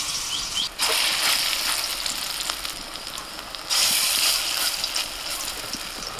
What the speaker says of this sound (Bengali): তেল গরম হয়ে গেছে, এবার ছোট ছোট করে বড়া দিয়ে দেবো।